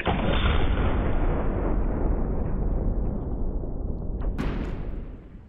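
A Firebird reactive target, set off by an air rifle pellet, gives one loud explosive boom that rolls away in a long, fading rumble over several seconds.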